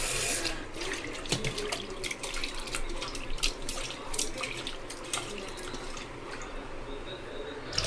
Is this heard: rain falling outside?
no